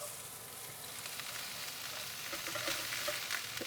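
Turmeric and vegetables sizzle and fry in a pan with mustard seeds, a steady close crackling hiss with small pops throughout, no voices.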